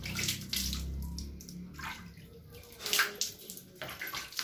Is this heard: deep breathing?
no